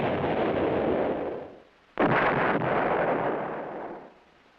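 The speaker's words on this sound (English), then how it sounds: "The self-propelled 8-inch howitzer M110 employs the same tube as the towed weapon." An M110 self-propelled 8-inch howitzer fires, producing heavy, close booming blasts with long rolling roars. A second sharp report hits about midway and its rumble trails off slowly.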